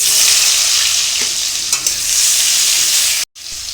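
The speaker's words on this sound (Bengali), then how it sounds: "তারপর গরম তেলের মধ্যে পেঁয়াজ দিয়ে দেবো।" Onions dropped into hot oil crackle and hiss in a constant, loud sizzle, with a couple of brief stirring sounds and a short break near the end.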